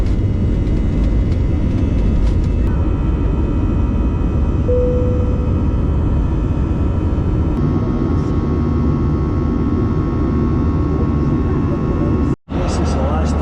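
Steady, loud engine drone fills the cabin of an airliner in flight, a constant roar with no breaks until a brief dropout near the end.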